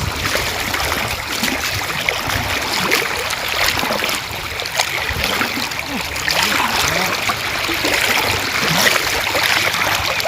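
A river current rushes and churns steadily nearby, a dense wash of flowing water with occasional splashes, continuous for the whole stretch.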